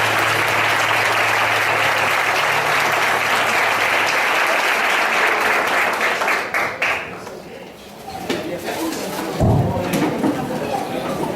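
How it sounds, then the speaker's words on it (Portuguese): A church congregation applauds during a Sunday service, a dense, sustained roar of clapping that dips briefly near the middle and then swells again, with voices mixed in. "Vamos receber o Marcos com uma salva de palmas ao Senhor."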